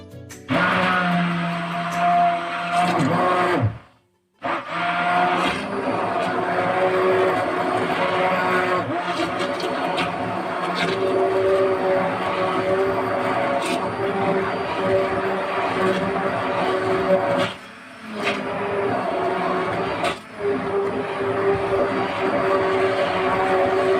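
A blender whirs loudly and continuously, blending oranges, lemon and water for lemonade, cutting out briefly a few times before starting again, its high motor drone steady throughout.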